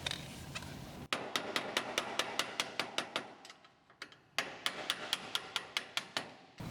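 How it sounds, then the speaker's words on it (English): Hammer blows ring out in a shop, a fast, steady run of sharp metallic strikes that pauses briefly around the middle, then resumes in the same rhythm, loud and close. "That's the wrong hammer."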